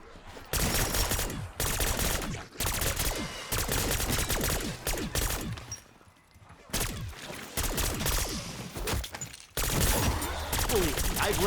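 Rapid bursts of Grekova pistol gunfire in a shooter video game, repeated volleys of sharp cracks with short gaps between them, loud and dense throughout.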